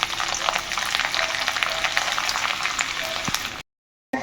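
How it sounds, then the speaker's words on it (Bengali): Chopped garlic fries in white oil in a wok with a dense, steady sizzle and crackle, close and loud, before cutting off abruptly near the end. "তো প্রথমেই এখানে রসুন কুচিটা দিয়ে দিচ্ছি।"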